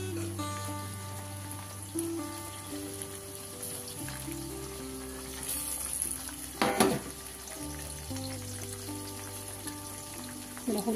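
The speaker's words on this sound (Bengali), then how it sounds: "টমেটো কুচিগুলো দিয়ে দেবো।" Chopped tomatoes go into onions already fried deep red in a pan for a spicy mutton curry, giving a steady sizzle with a louder splash midway, all under background music.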